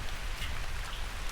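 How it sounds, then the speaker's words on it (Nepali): Heavy rain pours down in Dhangadhi, a steady, dense hiss of drops drumming on surfaces that stays even throughout, with no voices. "आज चाहिँ धनगढीमा जोरसित पानी पर्दैछ"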